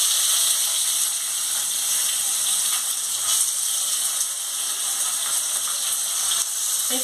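Chopped onion hitting hot oil with cinnamon pieces and bay leaf gives off a steady, bright sizzle. The hiss holds constant and fairly loud throughout, with no talking.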